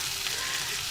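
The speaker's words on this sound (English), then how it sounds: "So we're gonna just stir fry this until there's a bit of color, a little bit of translucency" Oil sizzles steadily in a pan during a home stir fry, a continuous close hiss with no pauses and a faint voice in the background.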